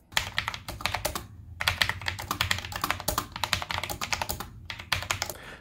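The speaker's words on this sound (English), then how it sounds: "This coupled with the smooth keycaps and the pleasing sound profile makes for an amazing typing experience" Typing on a Corsair K70 Mk.2 Low Profile mechanical keyboard with smooth keycaps: dense, rapid clacking keystrokes in bursts separated by brief pauses, close and clear with no voices.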